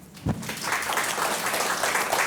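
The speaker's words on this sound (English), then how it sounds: "let us all give him a round of applause" An audience applauds steadily to welcome the guest speaker at a book talk and Q&A, a dense wash of many hands that rises quickly after a brief thump and holds without voices.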